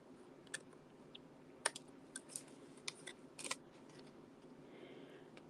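Scissors snip through strands of foil sheet, a handful of small, sharp, irregular cuts close by against a quiet room background, with no talk.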